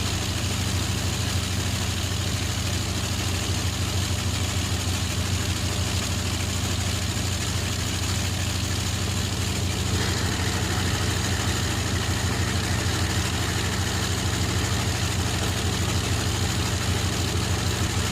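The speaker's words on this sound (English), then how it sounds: "experience the raw energy, sound, and vibration of one of Britain's most important wartime power plants" A large British World War II radial aircraft engine runs loud and steady, a continuous throbbing drone with no pauses.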